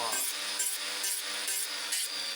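A hand file rasping back and forth on the metal choke lever shaft of a Husqvarna 525 string trimmer, with steady, close strokes repeating about every half second and no talking.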